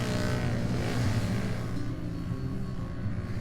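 Can-Am Maverick sport side-by-side engine roars loudly and steadily at high revs, a close, continuous mechanical drone with a deep rumbling low end and no talk over it.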